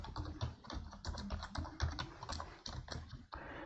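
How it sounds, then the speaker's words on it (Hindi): A computer keyboard clatters with steady, rapid keystrokes while a form is filled in. The clicks are close and moderately quiet, with short pauses between the bursts. "चाहें तो दोबारा फिर से आप कीबोर्ड के सहायता से आप लिख सकते हैं।"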